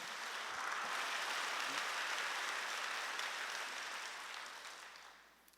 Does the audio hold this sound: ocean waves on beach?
no